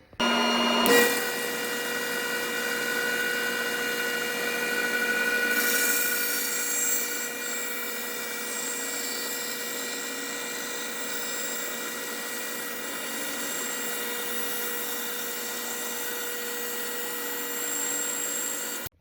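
A bandsaw cuts a wood piece with a pressed and glued walnut inlay, starting with a sharp onset into a steady, loud whine that holds evenly to the end.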